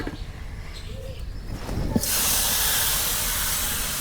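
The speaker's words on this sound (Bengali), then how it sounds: "এখন আমি কড়াইতে মাংস দিয়ে দেবো।" Chicken meat dropped into a hot, dry wok for kala bhuna: faint kitchen clatter gives way to a sudden loud, steady hiss of sizzling that keeps going to the end.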